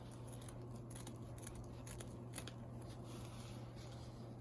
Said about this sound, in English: you want to take your scissors and just go around and trim this up to maybe 1/2 inch all the way around